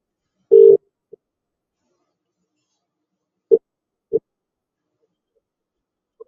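A few separate tones from a phone being dialed before a sales call, one longer tone followed by two short ones after a pause, fairly clear in a quiet room.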